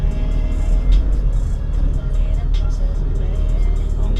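Road traffic rolls by with a steady wash of car engines and tire noise, loud and continuous, as vehicles pass close in a busy street.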